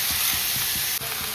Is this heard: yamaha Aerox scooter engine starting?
no